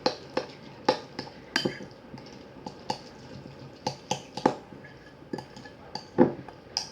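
A spoon clinks and taps against a bowl while mango salsa is mixed, producing a dozen or so sharp, irregular close-up knocks with quiet gaps between them.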